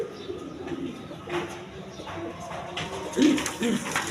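Satin pigeons, a quality fancy breed, coo in low throaty bursts, with a louder cluster of coos near the end and steady background noise throughout.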